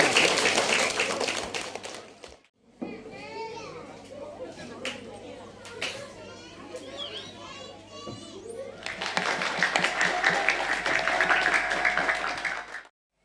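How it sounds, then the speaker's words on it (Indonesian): An audience at a Quran memorization class showcase and year-end celebration claps loudly for about two seconds, children chatter and play for a stretch, then a second long round of broad applause follows. "Tepuk tangan yang meriah untuk Mbak Tiffany."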